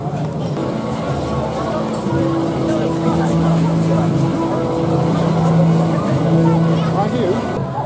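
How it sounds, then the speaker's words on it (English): Ride on the Wicker Man wooden roller coaster at Alton Towers: a steady loud rumble and roar of the train on the track with a droning mechanical hum, continuous throughout, with a voice heard briefly over it. "another great ride on Wicker Man just there"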